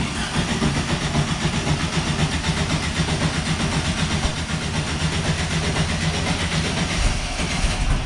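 A Baja Bug's engine, run on two-year-old gas, labors through its first start as a loud, steady, rhythmic mechanical chugging rumble that lasts the whole stretch, with no talking.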